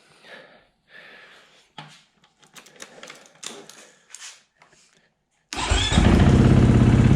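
A KTM 500 EXC-F dirt bike engine catches and then idles loudly and steadily for a couple of seconds, after a stretch of scattered mechanical clatter and handling noises.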